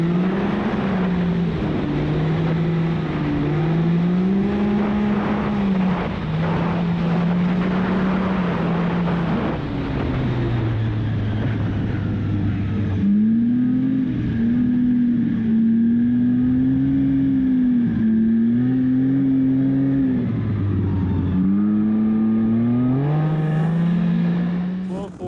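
A snowmobile runs along a trail near Hawley, Minnesota, its engine a loud, continuous droning whine that rises and falls in pitch as the rider speeds up and eases off, heard close from the machine itself.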